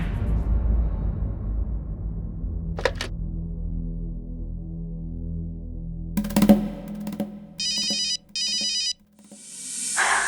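An outgoing phone call rings on the line: after a few quiet clicks and taps, two electronic ring bursts sound close and clear in a quiet room, followed by a soft hiss.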